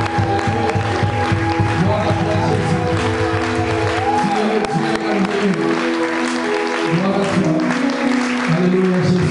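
A church congregation applauds and cheers loudly, with steady clapping and voices over a continuous background of talk and music that stays dense and loud throughout.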